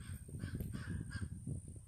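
Crow cawing in a short, rough series of calls over a low, steady rumble of background noise.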